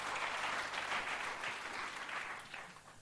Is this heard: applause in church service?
yes